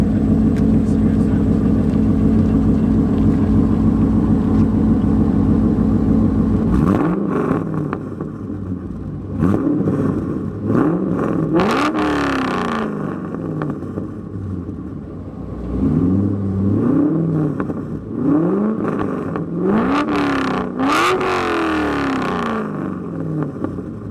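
A deep Corvette C5 V8 with long-tube headers, X-pipe and no mufflers idles loudly, then is revved repeatedly in sharp rising bursts that fall back to a rumbling idle, close to the listener.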